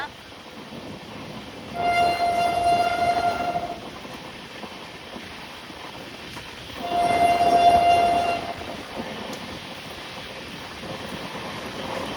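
A fast passenger train on the Hubballi–Srisailam run rumbles steadily toward Munirabad station, its horn sounding two long, loud blasts a few seconds apart over the continuous rolling noise of the wagons.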